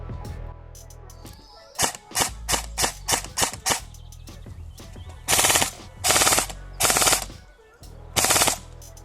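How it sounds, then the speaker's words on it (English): Airsoft gun running on an 11-volt LiPo battery fires BBs in loud, rapid full-auto bursts: a string of short sharp bursts, then several longer sustained volleys with brief pauses between, close to the microphone and with no talking. "now I'm gonna show you the difference when you put an 11-volt LiPo battery."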